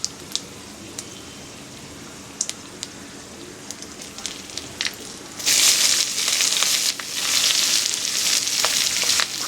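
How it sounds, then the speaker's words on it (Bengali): Sliced onions and green chillies dropped into hot oil in a pan. Sparse crackles are followed by a loud, steady sizzle of frying, close up, with brief stirring noises. "খুব ভালোভাবে তেলের মধ্যে পেঁয়াজটা ভেজে নেব"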